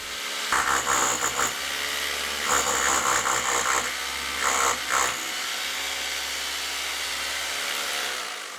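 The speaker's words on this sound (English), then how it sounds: "The best way to do this is with a hammer drill and a masonry drill bit." Three loud bursts of a hammer drill with a masonry bit drilling into brick, each lasting about a second, separated by short pauses over a steady background hum.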